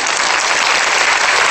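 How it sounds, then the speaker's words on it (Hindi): Steady audience clapping at a Hindi spiritual talk, a dense continuous burst of applause filling the whole short stretch, loud and close with no talk over it. "यदि हां तो ताली तो बजाओ।"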